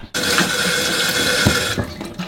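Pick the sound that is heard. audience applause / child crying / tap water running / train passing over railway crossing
tap water running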